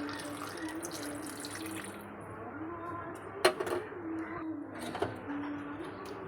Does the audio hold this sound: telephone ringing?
no